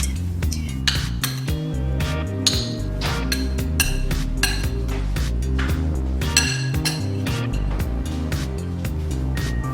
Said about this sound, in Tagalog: Mix everything together until all the ingredients are well combined.